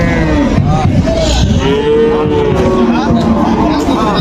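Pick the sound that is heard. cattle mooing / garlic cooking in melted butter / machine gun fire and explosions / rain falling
cattle mooing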